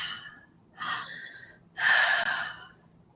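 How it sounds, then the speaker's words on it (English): Deep conscious breathing, audible close breaths with a short inhale followed by a longer, fuller breath, soft and unhurried with no talking. "connect the inhale with the exhale by just allowing the exhale to flow out, and then immediately pulling that inhale"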